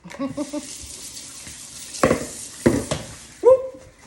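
Tap water runs at a kitchen sink as oxtail meat is rinsed, heard in short splashy bursts and gurgles with quiet gaps between, close and fairly soft.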